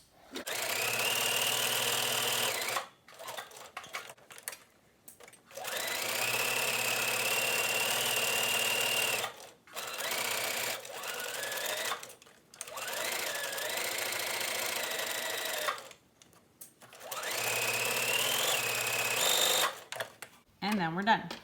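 Sewing machine stitching a face mask, several long runs of fast, steady humming stitches with short pauses between, close and clear, with the pitch shifting slightly as speed changes.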